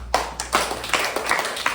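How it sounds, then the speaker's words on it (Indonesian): A classroom of students gives a short burst of hand clapping in a few distinct rhythmic bursts, close and moderately loud, with no talking over it. "tepuk tangan untuk semua"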